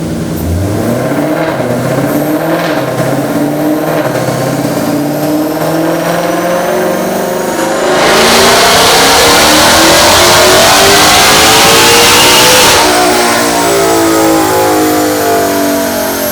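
A widebody Ford Mustang GT500KR on stock setup and stock injectors revs hard on a dyno, its loud engine sweeping up steadily, peaking in a roaring full-throttle stretch, then easing back down, with no talk.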